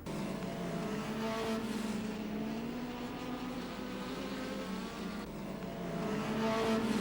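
Racing cars on a track drone past steadily for several seconds at moderate distance, engine notes overlapping in a sustained roar that swells again near the end.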